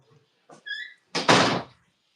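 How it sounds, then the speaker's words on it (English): A door slammed shut hard indoors, a loud close thud with a brief rattle, preceded by a few quieter clicks and small movement sounds. "Let me shut my door."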